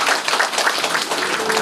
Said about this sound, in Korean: 자, 박수 부탁드리겠습니다.